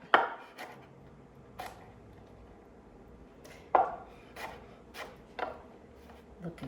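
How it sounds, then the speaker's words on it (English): Knife strikes on a cutting board while chopping okra for chicken gumbo, a handful of sharp, spaced-out taps at an uneven pace, close and fairly quiet with no talking. "I've got all my okra cut up, going in the bowl"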